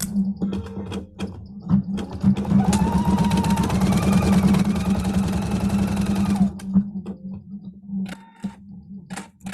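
Embroidery machine running a placement stitch outline, a steady mechanical hum with rapid needle ticking that holds for several seconds before stopping, with a quieter stretch at either end.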